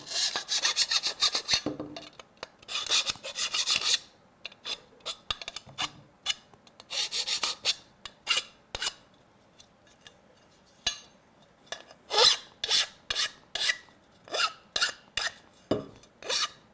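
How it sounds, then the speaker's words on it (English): Hand file rasping burrs off metal swerve drive module parts before assembly, a series of short scraping strokes in bursts, close and fairly loud with brief pauses between strokes. "let's just file off the burrs here and get them ready for assembly"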